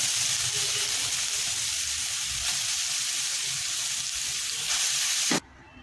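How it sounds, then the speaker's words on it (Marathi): Grated carrot is sautéed in a pan for carrot halwa, making a loud, continuous close sizzle with light scraping that holds steady before cutting off abruptly near the end. "गाजराचा किस परतून घेते."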